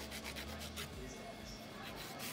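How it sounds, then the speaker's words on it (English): A nail file rasps back and forth over gel nails during a salon fill, a faint, steady rubbing stroke repeated in quick rhythm at close range, with quiet room ambience around it. "After smearing the nails, let me file it again."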